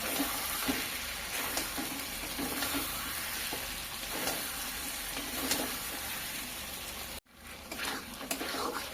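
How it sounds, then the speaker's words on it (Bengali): Chicken sautéing with meat masala and shahi garam masala powder in a pan, a steady close sizzle with periodic scraping stirs, briefly cutting out near the end before resuming. "দিয়ে খুব ভালোভাবে আরও কিছুক্ষণ কষিয়ে নেব"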